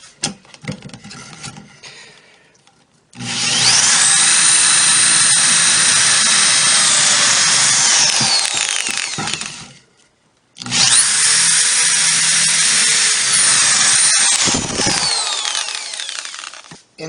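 A power drill bores pocket holes into wood through a single-hole Kreg pocket hole jig, in two long, loud, sustained runs of several seconds each, separated by a short pause.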